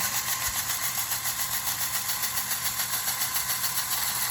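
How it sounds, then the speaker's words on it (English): A small engine in a custom LEGO RC car runs at a steady, high-pitched whine with a fast even buzz, holding constant throughout with no voices. "There's the engine."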